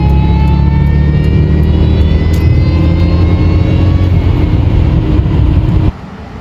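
A 2003 Jaguar S-Type R engine pulls hard while accelerating to pass, a loud, sustained roar with a rising tone that holds steadily, then drops off abruptly near the end.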